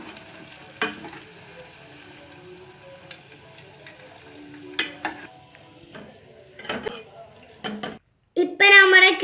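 Kilikoodu, a nest-shaped snack, frying in hot oil: a steady close sizzle broken by clinks and scrapes as pieces are lifted out, ending in a louder bubbling surge.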